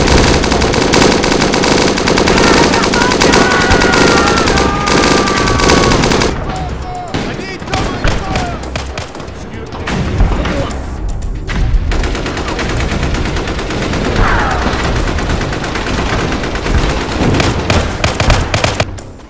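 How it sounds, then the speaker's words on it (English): Heavy beach battle gunfire in Heroes & Generals: sustained rapid machine-gun fire with scattered single shots and distant booms, loud and close, briefly thinning midway before resuming, with voices calling out through the chaos. "Oh, God, they're shooting at us."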